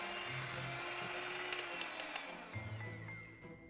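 An electric hand mixer whirs at high speed through cake batter with a thin, steady whine, close and fairly quiet, and a few brief clicks and knocks sound along the way.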